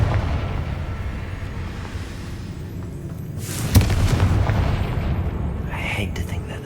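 Confringo blasting curse going off in the Hogwarts Legacy video game: a sharp fiery burst near the middle of the clip over a steady low rumble of game battle noise, with a voice speaking.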